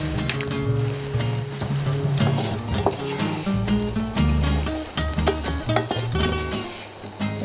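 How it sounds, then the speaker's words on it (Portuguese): Portuguese-style rice sautéed with aromatics in a pan gives a steady, close sizzle and frying crackle for the whole stretch, with occasional stirring scrapes and clinks. "Já refoguei um pouco o arroz"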